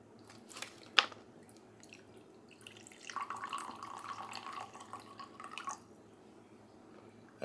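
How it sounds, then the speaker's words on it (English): Excess water drains off a freeze-dried MRE meal of turkey breast, mashed potatoes and gravy: pours and trickles for a few seconds after a faint clink, a soft splashing drain, fairly close and quiet, then stops. "I'm going to drain off the excess water in that."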